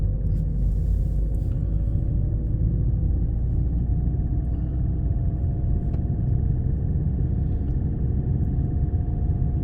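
A car cabin drones with steady low engine and road rumble during a driving lesson, with a constant close interior hum and faint clicks, and no talking.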